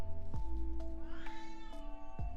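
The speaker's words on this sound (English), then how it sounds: "Perhaps you can hear my cat screaming right now." A pet cat indoors during a live drawing session cries out in a few loud, drawn-out yowls over a steady background hum, with no speech.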